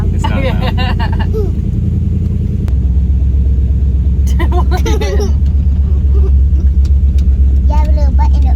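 A new truck rumbles loudly and steadily while driving around the block, the deep engine drone continuous beneath people talking inside the cab.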